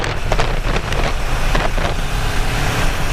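A motorcycle engine downshifting on a road ride, heard as a loud, steady roar mixed with heavy wind buffeting close to the mic.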